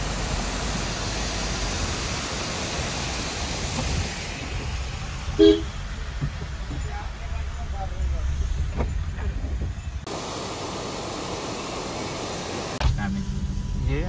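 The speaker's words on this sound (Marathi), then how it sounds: "जोरात पाणी आलंय." A steady, heavy rush of monsoon water near Lohagad fills the whole stretch as a loud continuous roar, with occasional voices and a brief knock partway through.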